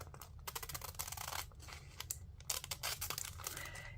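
Larger scissors snip repeatedly through material while making enclosed botanicals, a close series of crisp cuts and rustles with no talk.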